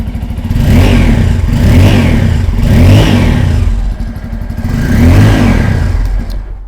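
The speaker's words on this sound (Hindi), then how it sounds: "बहुत ही अच्छा खासा लाउड हम लोग को एग्जॉस्ट मिल जाती है" Bajaj Pulsar N250 motorcycle with dual-barrel exhaust, engine revved hard four times in close succession, each loud throaty rise falling back to idle, heard up close.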